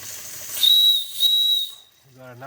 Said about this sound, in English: Got a nice whistle.